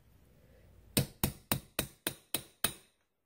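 A hammer strikes a chisel seven times in a steady rhythm, each a sharp metallic hit, while chiseling a plate off a VW O2O transmission. The blows follow a near-silent start.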